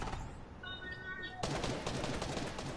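Bursts of rapid gunfire in a multiplayer shooter video game, loud and close, clattering in quick succession over a brief stretch.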